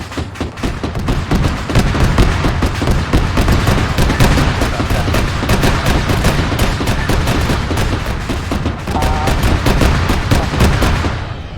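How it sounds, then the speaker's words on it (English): Autocannon fire in the Arma 3 war game, a loud, close run of rapid, heavy shots repeating almost without pause before trailing off at the end. "They're still hearing the autocannon go off."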